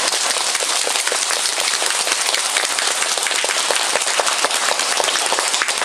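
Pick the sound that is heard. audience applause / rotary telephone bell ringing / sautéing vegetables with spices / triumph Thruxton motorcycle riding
audience applause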